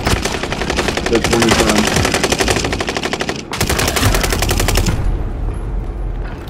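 Rapid automatic gunfire in a video game, loud sustained bursts with a brief pause midway, then a voice speaking over the tail of the shooting.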